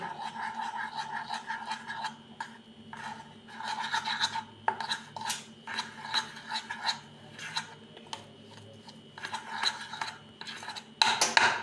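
Kachori dough ingredients being mixed in a bowl, with repeated scraping, clinking and rubbing strokes in an irregular rhythm, close and moderately loud, with no voices.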